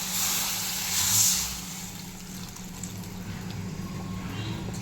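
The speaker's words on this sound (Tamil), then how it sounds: "இப்போ நம்ம அந்த கரைச்சி வச்சுருக்க புளி தண்ணியை இதில் ஊற்றிடலாம்." Tamarind water being poured into a cooking pan for a fish curry, a continuous liquid pour and splash heard up close against a low steady background hum.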